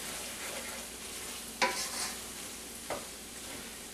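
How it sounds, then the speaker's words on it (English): Browned ground meat with green onions and parsley is stirred in a pan for Jamaican patty filling, giving a soft continuous sizzle with a couple of brief scraping clicks from the spoon, close and moderately quiet. "Last thing you're going to do, add your green onions and your parsley. Okay, and you're just going to mix that together."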